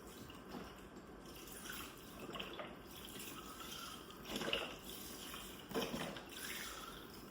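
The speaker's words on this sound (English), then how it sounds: "Add the remaining chicken stock." Chicken stock pours into a crockpot for gnocchi soup, a soft intermittent liquid trickle and splash with a few louder glugs, faint and close, without speech.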